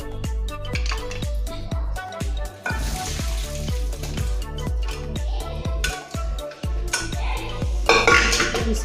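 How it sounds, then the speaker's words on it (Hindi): Metal pots and utensils clatter and clink steadily over a busy kitchen background, with repeated knocks and scrapes close by, as pressure-cooked jackfruit is strained and transferred to another pot. "दूसरे बर्तन में निकाल लेते हैं पानी छान के।"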